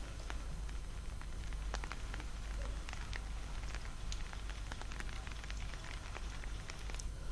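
Rain, with hail falling in the Deesa area, makes a constant close crackling patter with scattered sharper taps over a low rumble.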